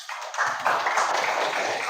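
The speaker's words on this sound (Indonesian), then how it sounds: "Tepuk tangan untuk kelompok 3" Applause for a team of pupils in a primary-school coding and artificial intelligence class, a dense burst of many hands clapping that swells quickly and carries on steadily without pause.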